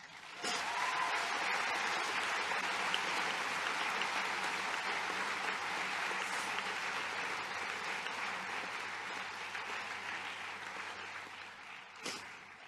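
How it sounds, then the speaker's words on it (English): The audience at a university graduation ceremony bursts into a dense, sustained wash of applause that fills the hall. It starts suddenly, holds for about ten seconds and then gradually tapers off, ending with a last sharp thump. "Let's give them a big round of applause."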